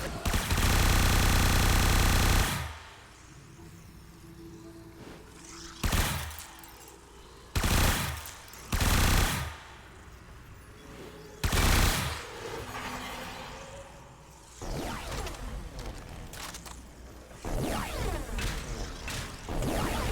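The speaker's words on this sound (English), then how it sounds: "we probably need to shoot that button" Gunfire in the video game Lua Spy Run, fired at a button: several loud, separate bursts of shots with gaps of quieter game ambience between them, up close and with no talk over them.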